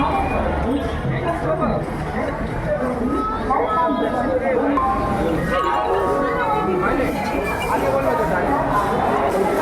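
Crowd bustle at a busy railway station on a Monday as people head in to buy tickets and board trains: a steady, dense babble of many voices with occasional clinks, continuous and fairly loud throughout.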